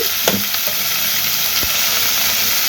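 Onions frying in oil with turmeric and salt give a steady, loud broadband sizzle that holds through the whole stretch, with a couple of faint knocks and no talking.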